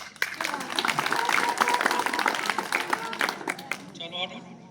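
Applause from an audience at a school stage play on literacy, a steady burst of clapping with voices mixed in that fades near the end into speech.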